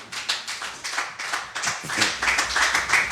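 A church congregation clapping in praise during an evangelistic sermon, a close, steady run of individual hand claps with a loose rhythm, growing slightly fuller toward the end.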